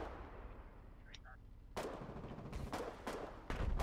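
A gunboat in the Foxhole video game fires a high explosive shell: a series of sharp, loud booming blasts, several in quick succession, cutting through a steady low rumble of engine and ambient noise.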